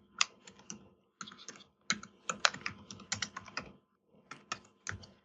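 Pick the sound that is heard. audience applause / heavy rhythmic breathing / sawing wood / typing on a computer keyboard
typing on a computer keyboard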